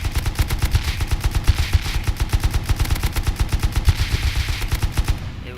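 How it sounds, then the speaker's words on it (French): An M249 machine gun fires in the video game Rust, a long sustained burst of rapid, evenly spaced shots, loud and punchy, trailing off at the end. "M249 est une arme très ravage qui n'a aucun recul"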